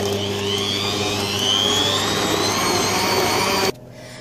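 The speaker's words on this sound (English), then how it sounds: "you're just going to want to cream this butter until it's paler in colour for about 5 minutes." A stand mixer creams butter in a mixing bowl for a gluten- and sugar-free buttercream, giving a loud, steady motor whine that runs evenly and then cuts off abruptly near the end.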